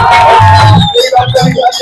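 A crowd at a rally in India claps and cheers loudly, a dense burst of applause with whoops that breaks into scattered shouts and clapping.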